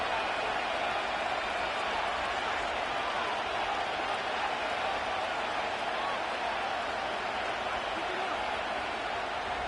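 Steady stadium crowd roar at Ford Field in Detroit from an EA Sports NFL video game, a continuous broad wash of cheering and applause heard throughout, loud and unbroken, with a commentator's voice over it.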